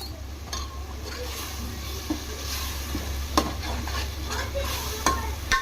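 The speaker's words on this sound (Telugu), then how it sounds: "ఇది మొత్తం పచ్చి వాసన పోయే వరకు ఫ్రై చేసుకుందామండి" Coconut paste, coriander and chilli powder fry in a pan while being stirred, a steady low sizzle broken by scattered scraping clicks of a spoon against the pan, up close.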